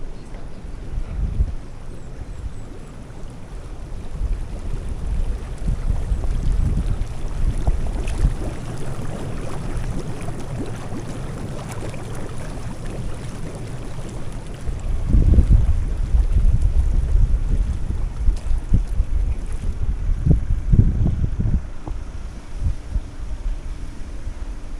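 Wind buffets the microphone with low rumbling gusts that swell and fade throughout, strongest in a few bursts; no talking.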